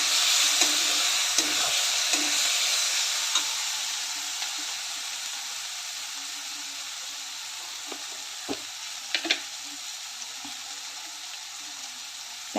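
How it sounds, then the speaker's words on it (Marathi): Tomato masala sizzles in a pan as turmeric is stirred in for a drumstick (moringa) masala dish, a bright steady frying hiss up close with a few spoon scrapes and taps, fading slightly over time. "हळद घालून चांगलं मिक्स करून घेते."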